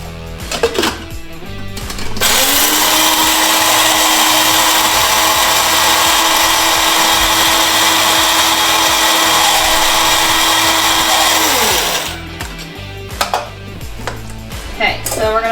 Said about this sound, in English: I've been using the espresso bean grinder for quite a few years now